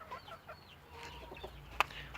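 A hen clucks softly in short, scattered calls, with faint rustling and an occasional sharp tap nearby in a quiet outdoor space.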